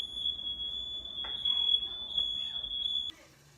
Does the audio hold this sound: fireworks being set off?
no